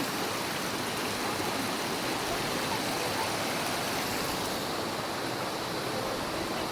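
Water of a small countryside stream rushes steadily in a dense, continuous broadband wash, close and fairly loud, with no voices.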